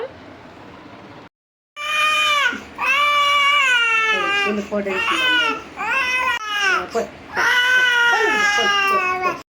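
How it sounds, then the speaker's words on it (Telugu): A little boy wails loudly and at length, long rising and falling sobbing cries broken by brief gasps for breath, close and continuous after a short quiet start. "మా చిన్నోడైతే చూడండి అసలు మస్తు ఏడుస్తున్నాడు"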